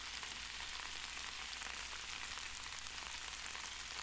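Vegetables sizzle steadily in a hot pan after a dash of oyster sauce, cooked outdoors off-grid; an even, close frying hiss continues without pause or talk.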